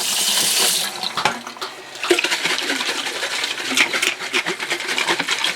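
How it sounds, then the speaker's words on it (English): Cold tap water pours steadily into a single kitchen container, a loud rushing hiss with a brief splashy change partway through, no talking. "What I'm doing is putting cold water in."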